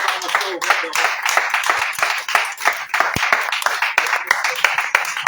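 A prayer-meeting congregation claps in acclamation, sharp, fairly rhythmic hand claps repeating steadily and close, with faint voices behind.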